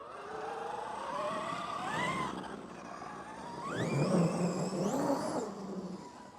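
A Traxxas XRT RC truck fitted with a new, taller gearset whines electrically as it drives, its motor pitch climbing quickly and topping out, then rising again in a second louder run.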